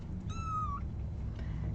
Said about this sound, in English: I heard the kitten wailing again.